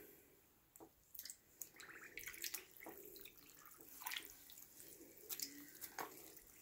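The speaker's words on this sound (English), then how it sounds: "So this is just some warm, hottish water with a little bit of soap." A knitted wool hat is sloshed and squeezed in a basin of warm, soapy water for felting, producing soft, intermittent splashes and trickles close by in a quiet room.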